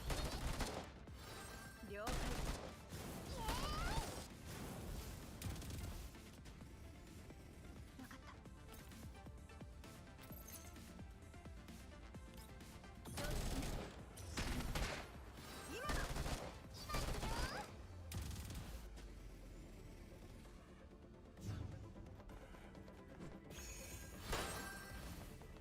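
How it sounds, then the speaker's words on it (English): Mobile strategy game Girls' Frontline battle with repeated bursts of gunfire and crashing impacts that come and go in clusters, mixed with game sound and some talk. "I like how they're shooting our people."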